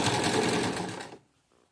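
A sewing machine stitches a cushion with piping, running in a loud, close burst for about a second before stopping abruptly, followed by a faint click.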